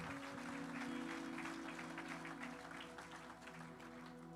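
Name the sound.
congregation applauding the word of God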